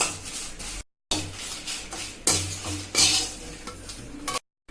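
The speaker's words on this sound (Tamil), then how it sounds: "காஞ்ச மிளகா வறுத்துக்கிறேன்." Dried red chillies roast in a pan with a light crackle, while a utensil scrapes and clatters against the metal in irregular strokes, punctuated by short silent gaps.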